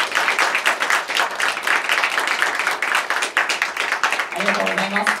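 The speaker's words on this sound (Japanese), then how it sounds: "拍手をお願いいたします。" An audience at the final of a weekday beatbox battle tournament in Tokyo claps steadily in a crowded, even patter, with a voice speaking briefly over it near the end.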